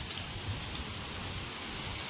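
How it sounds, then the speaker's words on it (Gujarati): Heavy monsoon rain pours onto trees outdoors, a dense, even hiss of drops on leaves holding steady throughout without any voices. "બાકી વરસાદ ફૂલ આવ્યો છે અત્યારે"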